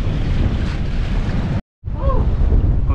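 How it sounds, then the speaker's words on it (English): Waves break on Long Reef off St Croix, near Christiansted, heard from a boat anchored behind the reef. Steady, loud surf roars with wind buffeting the microphone, briefly cutting out once, and no talk. "You can see the waves crashing on the reef over there."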